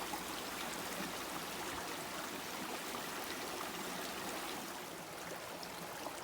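Spring water flows out of the Bethel Spring at a nature preserve, a steady, even trickling and burbling stream heard close and alone without pause.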